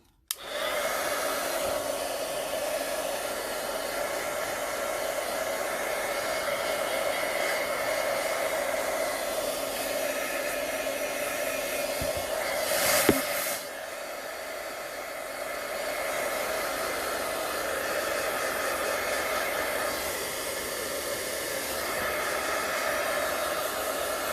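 A hair dryer blowing over alcohol ink marbling runs as a loud, steady close whoosh for the whole stretch, with one brief dip in airflow partway through.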